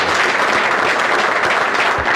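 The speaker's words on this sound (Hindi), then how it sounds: "एक बार सर के लिए अगेन फिर से दोबारा ताली बजा दीजिए।" Audience applause filling the room in a steady, dense wash of clapping from a crowd, sustained evenly throughout with no voices over it.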